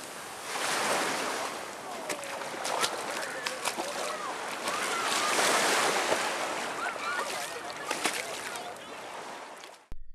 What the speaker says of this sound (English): a strong wind blew the map away, and it floated gently into the welcoming waves